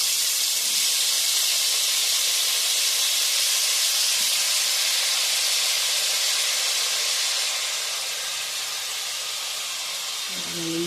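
Jackfruit pieces frying in hot oil and ghee, a steady loud hiss and sizzle that runs on without a break, easing slightly toward the end.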